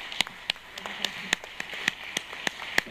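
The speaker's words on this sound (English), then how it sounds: "So a round of applause." Sparse, scattered hand claps from a small audience at an ocean science and arts talk, quiet and irregular, with single claps spaced across a few seconds rather than a full round.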